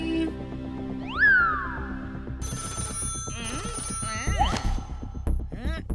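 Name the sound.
telephone ringing in a cartoon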